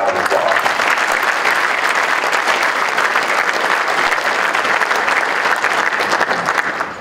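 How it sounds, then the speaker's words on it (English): A large audience gives loud, sustained applause for Donny Osmond at an NAB broadcasting event, a thick steady roar of many hands that holds level and dips only at the very end. "Another round of applause."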